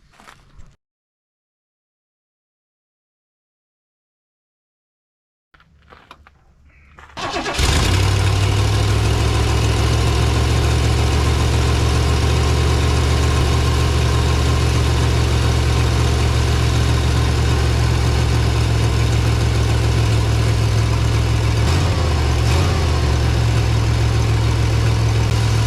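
A 1969 Ford Thunderbird engine cranks after a short silence, catches and settles into a loud, steady, rumbling idle that runs on close by.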